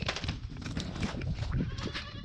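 Goat bleating at close range in a short burst of repeated calls, moderately loud, with no talking over it.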